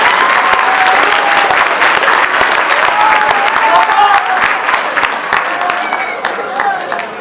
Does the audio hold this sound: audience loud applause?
yes